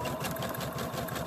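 Sewing machine stitching all the way around a fabric egg, a steady rapid mechanical whir with even stitch pulses, close and moderately quiet, running alone without voices.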